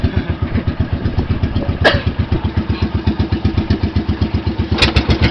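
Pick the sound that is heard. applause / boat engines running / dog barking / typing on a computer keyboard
boat engines running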